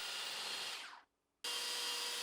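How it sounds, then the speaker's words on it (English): A handheld power grinder whines loudly as it grinds protruding wooden dowel ends flush with a tabletop surface, cutting off briefly for a moment of near silence before starting again at full volume. "Next up, the extra dowel lengths were ground down to the surface."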